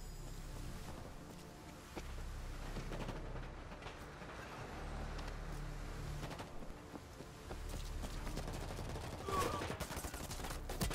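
Gunfire rattles through World War Z in scattered bursts and rapid shots over a busy rumbling game soundscape, with a voice talking at moments.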